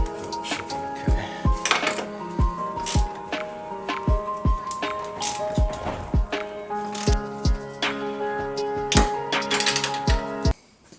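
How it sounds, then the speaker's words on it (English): A hand ratchet tightens coilover bolts on a Subaru Impreza, making repeated bursts of sharp metallic clicking in an uneven rhythm, close and fairly loud, with brief pauses between strokes. "Tighten up the bolts now."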